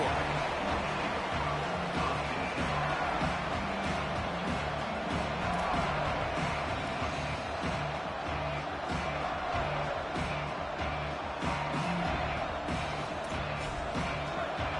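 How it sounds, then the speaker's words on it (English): Continuous roar of a large college football stadium crowd in a video game, dense and steady throughout, with no single voice standing out. "This crowd bringing the energy and noise early."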